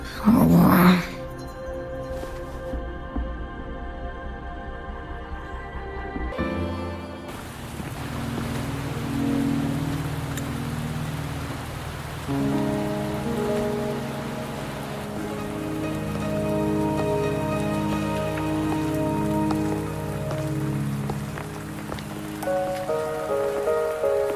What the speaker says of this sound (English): Are you trapped here by the rain?